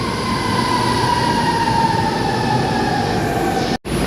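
An MRT-3 metro train in Manila rumbles past steadily and loudly at night, with a faint high whine from the wheels, before the sound cuts off abruptly near the end.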